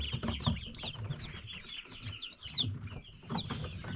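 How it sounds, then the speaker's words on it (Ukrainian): Many tiny day-old black chicks peep in high, rapid chirps close by, a busy overlapping chorus with soft rustling beneath. "10 штук є суточні курчатка"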